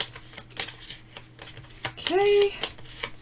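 Playing cards shuffled during a tabletop game of Keepers, several quick riffling bursts near the microphone interrupted by brief pauses, with a short spoken word and light talk in between.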